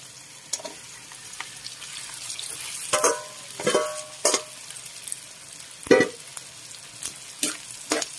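Pork meat stirred back into a hot pan for the Ilocano sweet pork fat dish, soft steady sizzling punctuated by scraping, clattering stirs and a few spoon knocks, close, no talk.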